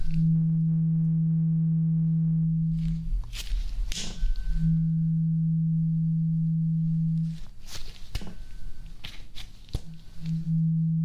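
During a hearing test, a steady low pure tone plays to one side and stops, followed by soft rustling and tapping. The tone then returns, and the same pattern repeats.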